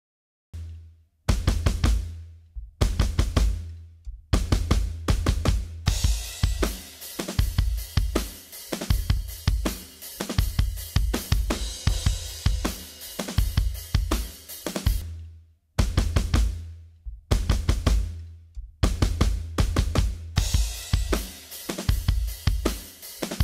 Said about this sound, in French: Donc ça c'est le son d'origine de la batterie avec un premier mixage qui a été réalisé.